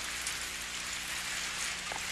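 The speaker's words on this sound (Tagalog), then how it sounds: "Umuulan!" Cartoon rain hisses down steadily, a constant wash of soft patter on a surface, fairly quiet and unbroken throughout.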